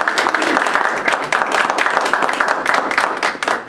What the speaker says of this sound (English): please give a warm round of applause for Mrs.